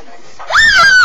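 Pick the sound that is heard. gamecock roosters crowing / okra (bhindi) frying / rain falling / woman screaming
woman screaming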